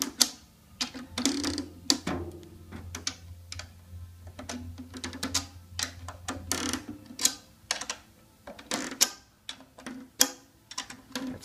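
Tension lugs on a coated drum head turned by hand, a series of close, irregular ticking and clicking sounds over a faint low hum.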